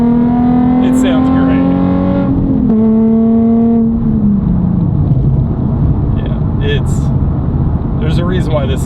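Nissan 350Z fitted with a race exhaust, a loud continuous engine drone whose pitch rises, drops at a shift and falls again, close and steady throughout with no talk.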